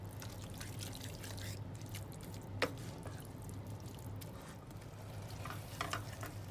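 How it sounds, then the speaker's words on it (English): Spices for an oat and vegetable soup sautéing in a pot over low heat, a soft steady sizzle with occasional faint stirring scrapes and light ticks, quiet and continuous throughout. "We're going to mix that in and saute it and let everything absorb the spices for 4 to 5 minutes on low heat"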